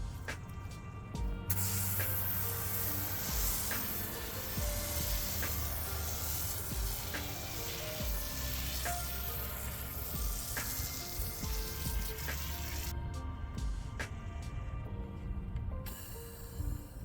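Steady hissing spray sounds as car descaler is sprayed onto paintwork, the sprayer going almost continuously with short breaks near the start and end, fairly close.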